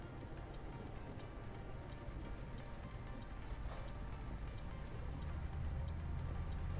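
Steady rain falls in the Euro Truck Simulator 2 driving game on a trip toward Rotterdam, a dense even patter with faint ticking droplets running throughout under the low hum of the truck, with no talk over it.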